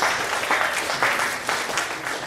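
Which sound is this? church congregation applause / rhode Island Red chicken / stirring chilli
church congregation applause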